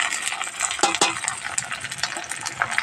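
Onions fried and stirred with ginger-garlic paste for duck curry make a steady bright sizzle, broken by a few sharp scrapes and clinks of a spoon against the pan, close and continuous.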